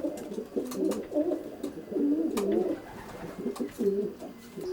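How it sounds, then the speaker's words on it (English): Racing pigeon cocks coo steadily inside a loft, soft overlapping rolling calls repeating close by, with no talking. "these very fit looking pigeons are Terry's roundabout cocks, and they're roaring"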